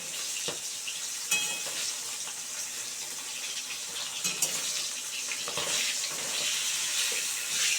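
Hot oil sizzles steadily with scattered sharp pops and crackles as fresh pond fish fries, a continuous close frying hiss across several seconds.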